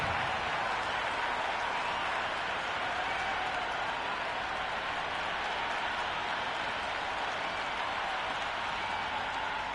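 A cricket stadium crowd in a PS4 game produces a steady, wide, faint wash of murmuring and cheering noise with no distinct peaks, sustained evenly throughout.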